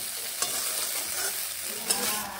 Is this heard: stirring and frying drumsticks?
yes